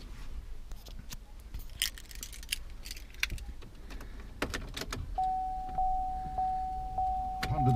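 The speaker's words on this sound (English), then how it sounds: "let's just get the ignition on, turn this thing on" Keys jangle and turn in a car's ignition, with rattling clinks and knocks close by, followed by a steady electronic tone and a low hum that fits a dashcam powering on.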